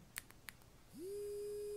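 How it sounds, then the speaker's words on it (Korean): Elio heating device vibrating after its button is pressed twice: a couple of faint clicks, then a steady, sustained electronic hum that starts with a brief rising sweep and continues evenly to the end, alone. "두 번 누르니까 진동이 우웅 오네요"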